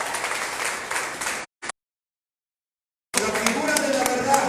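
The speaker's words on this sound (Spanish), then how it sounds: "Dale un aplauso más fuerte a Dios." A congregation applauding at a church gathering, loud clapping that cuts off abruptly, falls silent for over a second, then returns just as full.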